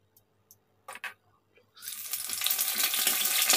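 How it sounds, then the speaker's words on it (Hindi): Cooking oil pouring into a pan on a stovetop while making dahi vada, a few soft clinks first, then a steady rising hiss and trickle that holds to the end, fairly quiet. "इसलिए हम इसमें तेल डाल रहे हैं"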